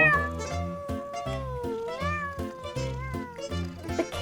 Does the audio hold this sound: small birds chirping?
no